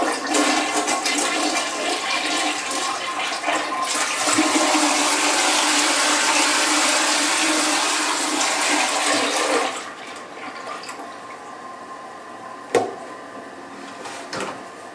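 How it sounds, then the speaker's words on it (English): Water rushes steadily through a Porch Potty dog potty as it is flushed, a loud sustained gush lasting about ten seconds, then quieter trickling and a couple of sharp clunks. "it all goes down with one flush, and then a second flush cleans out the bowl"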